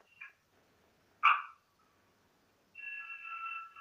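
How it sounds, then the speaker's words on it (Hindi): A mobile phone ringing in an audience during a spoken religious discourse, a short chirp, a louder blip, then a sustained electronic ringtone tone, fairly close in a quiet room. "आवाज बंद कीजिए अपने फोन की"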